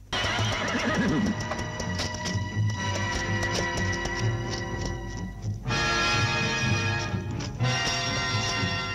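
A horse in a kung fu film whinnies loudly and repeatedly, with clip-clopping hooves underneath, the sound close and continuous without speech.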